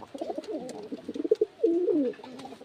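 Pigeons coo in a loft in a quick run of soft, throaty bubbling notes that end in a longer rolling coo. The sound is close and moderately quiet, with no talking.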